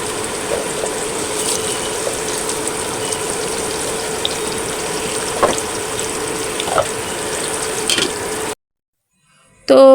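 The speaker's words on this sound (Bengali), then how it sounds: "এখন পটলগুলো আমি ভেজে নিব।" Pieces of pointed gourd coated in turmeric, salt and spices frying in hot oil, a steady loud sizzle with a few sharp pops, cutting off abruptly into near silence near the end.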